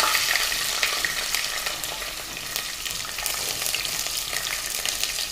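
Curry leaves and garlic dropped into hot oil with spluttering mustard seeds, urad dal and methi seeds for a kara kulambu, a loud crackling sizzle with sharp pops and stirring, close and continuous without speech.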